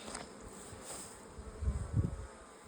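Honey bees buzzing steadily at close range at a full hive being expanded with a honey super, a dense droning hum with a few louder passes near the end.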